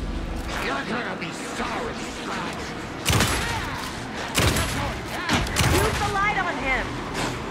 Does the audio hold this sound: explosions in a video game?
yes